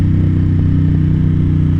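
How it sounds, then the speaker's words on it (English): Ducati XDiavel S motorcycle engine droning steadily and loudly at close range while riding with the rear brake pressed, a continuous low rumble with no pauses. "Look, I'm riding here, I'm pressing the brake."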